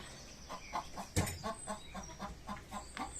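Chickens cluck softly and rhythmically while pecking at pellet feed, a series of short close calls with one sharper burst near the start.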